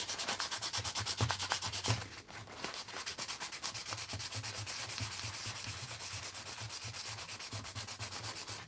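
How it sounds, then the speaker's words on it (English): Sandpaper of 400 grit rubs steadily on the battery terminals of a 1980s He-Man Dragon Walker toy, a close, continuous scratchy scrubbing with a brief pause partway through. "Using 400 grit sandpaper. That way I don't destroy the terminals."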